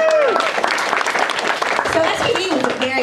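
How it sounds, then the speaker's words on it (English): Audience applause at a live talk show with cast members, clapping mixed with cheering and excited voices throughout. "Give them a round of applause."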